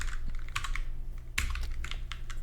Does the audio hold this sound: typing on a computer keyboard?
yes